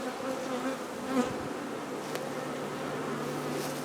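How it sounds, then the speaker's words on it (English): Bees buzzing steadily around the camera outdoors, a continuous close insect drone with one bee swooping in louder near the lens, no talking. "Got one bee that wants to sting the camera."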